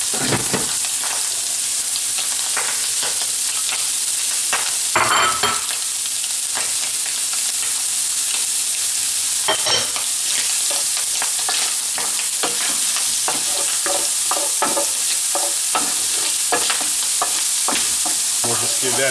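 Shallot, garlic and chilies fry with bacon in a hot pan, a steady close sizzle with occasional stirring scrapes and clatters throughout, no talking.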